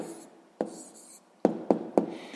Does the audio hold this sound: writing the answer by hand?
yes